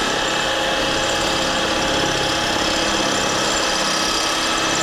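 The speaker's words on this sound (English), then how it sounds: "So this is on just drilling." A Bosch SDS Max hammer drill grinds steadily through brick in drilling-only mode, a loud, continuous, close mechanical whine and rattle with no pauses or voices.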